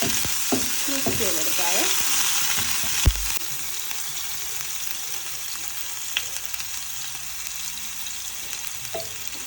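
Ginger garlic paste and crushed dried chilli sizzling and being stirred into tapioca in a pan, a steady loud frying hiss with scraping spoon strokes and one sharp knock.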